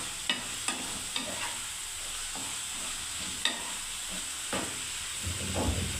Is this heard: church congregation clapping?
no